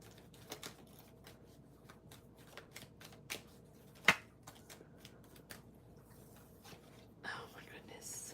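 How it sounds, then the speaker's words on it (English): Tarot cards are shuffled by hand in a quiet room, giving soft, close riffles and sharp taps in irregular bursts, with faint whispering and breathy sounds in between. "I need to shuffle the other cards as well"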